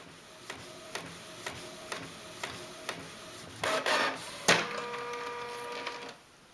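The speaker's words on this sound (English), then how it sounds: "I'm now going to print that off using my printer's best quality setting" An inkjet printer running a picture print on its best quality setting, giving soft evenly spaced ticks as the head passes, then a louder burst of whirring and feeding clatter before the paper runs out, close and alone.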